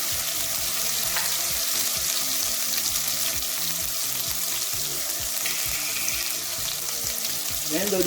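Fried andouille sizzling loudly in a pan as Haitian épices spice paste goes in, a constant close crackle with stirring scrapes and a brief watery hiss near the end.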